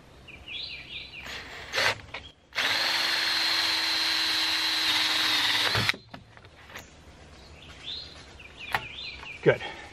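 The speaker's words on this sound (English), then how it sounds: "I've got a 1 1/4 hole saw" A 1 1/4 inch hole saw bores into the top of a water tank on an off-grid water tower, a loud steady drill whine lasting about three seconds between quieter handling clicks and faint birdsong.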